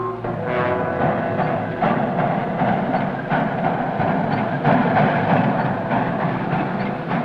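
A train rolls along a railroad track, its engine rumbling loud and steady with rhythmic clickety-clack from the wheels and no voices over it.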